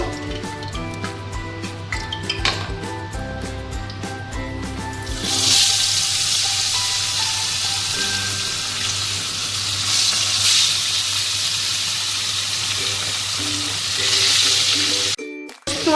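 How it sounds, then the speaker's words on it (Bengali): Sarpunti fish hitting hot oil in a pan for bhapa, a loud steady sizzle that swells up after a few seconds of quieter kitchen sounds and carries on to the end, with no talking. "তেলটা আমার গরম হয়ে গেছে এবার মাছটা দিয়ে দেবো"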